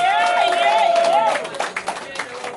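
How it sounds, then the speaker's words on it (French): Guests at a 100th birthday celebration for maman Léonie break into clapping after a voice trails off, a short run of distinct, fairly rhythmic claps from a small group, nearby and moderately loud. "Que Dieu nous entende, on applaudit pour cela."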